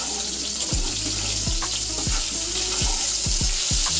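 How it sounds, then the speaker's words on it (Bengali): Long-cut potatoes coated in salt and turmeric fry in hot mustard oil. A bright, steady hiss and crackle runs throughout, with repeated low knocks and bumps at an uneven pace, and nobody speaks. "এরপর আলুগুলো কিছুক্ষণ ভেজে নিতে হবে।"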